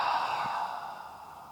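A slow breath out during a guided Sunday floor stretch, a soft airy exhale fading gradually over a second and a half, close and quiet with no talking.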